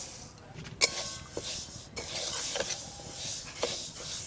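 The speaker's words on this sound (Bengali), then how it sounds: "শুকনো কড়াতে মুগের ডালগুলো একটু হালকা করে নেড়ে নিয়েছি" Moong dal is stirred in a dry karai, giving faint scraping and rattling strokes of a spoon against the pan at an uneven rhythm, with light clinks and a soft background hiss, no talk.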